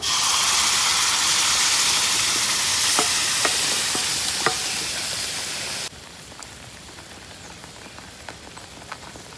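Chilli powder and masala hit hot oil in a pan with a loud, dense sizzle and a few spatula taps, then the frying drops suddenly to a quieter steady crackle; no voices.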